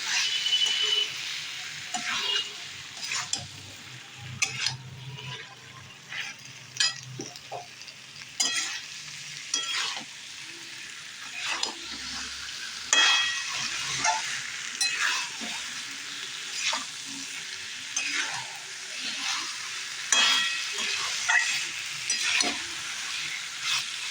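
Mixed vegetables sauté in a pan, a soft crackling sizzle punctuated by frequent sharp scrapes and clinks of a spatula stirring, uneven in rhythm and close by, with no voices.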